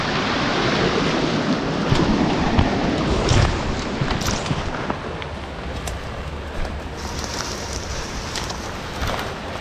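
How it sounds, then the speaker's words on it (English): A big waterfall roars continuously nearby, a dense, unbroken wash of rushing water with no pauses or other sounds. "Looks like a big waterfall."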